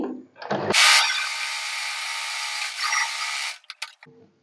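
A sewing machine stitching a katori blouse runs in one steady, close, loud whirring burst of about three seconds, framed by brief handling clicks and a little talk at the start.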